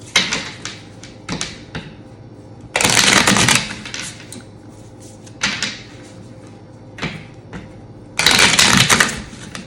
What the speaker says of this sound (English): I'll do a good hard shuffle.